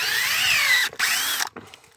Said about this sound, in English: I go ahead and drill all the way in.